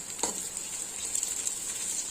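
Onions sizzling in about three spoons of hot oil inside a cooking pot for biryani, a steady close hiss and crackle throughout with a brief stir-like scrape near the start.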